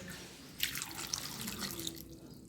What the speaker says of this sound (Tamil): இதோட தண்ணி சேர்த்துக்கலாம்.